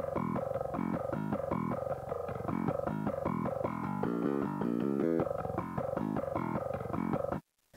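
Metal bass guitar with a mid and low-mid focused EQ plays a steady, dense riff of fast repeated picked notes, growly and even in loudness, alone without talk, cutting off abruptly at the end.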